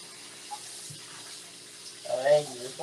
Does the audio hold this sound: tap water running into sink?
yes